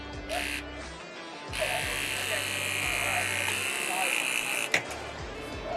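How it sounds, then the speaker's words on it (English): A Greenlee hydraulic battery cutter, triggered by remote, cuts through aluminum and steel wire. The motor whines steadily for several seconds, pulsing and straining, then a sharp snap marks the cut, with a person talking nearby. "So we just cut through aluminum and steel, which is really tough to do without having a hydraulic battery tool"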